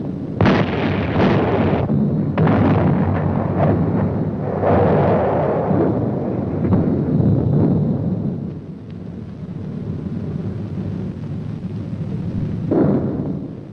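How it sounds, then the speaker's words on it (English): Loud, booming blasts from a 1953-era artillery battery firing for effect, several heavy reports in quick succession with rumbling, overlapping decay, then a final sharp blast near the end. "Repeat range. Fire for effect."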